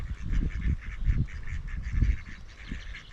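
Ducks or geese honk repeatedly beside a body of water in the Peak District, UK, a series of close, loud nasal calls in uneven bursts over faint background hiss.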